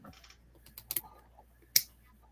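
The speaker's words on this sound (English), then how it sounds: "Chandler, did you see the keyboard I got there?" Keys on a new computer keyboard clatter in a short uneven burst of taps, close by, with one louder sharp key strike near the end and a quiet room behind.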